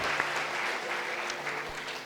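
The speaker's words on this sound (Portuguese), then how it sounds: "Dá um aplauso aí para Jesus aí, né?" A congregation at a church sermon claps steadily, a soft even wash of many hands at moderate distance, with a few louder claps standing out.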